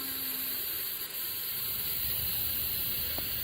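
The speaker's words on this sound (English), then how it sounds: "It's got a little bit of an air leak" A compressed air line hissing from a small leak at the regulator, a steady close hiss that holds constant throughout with no talk.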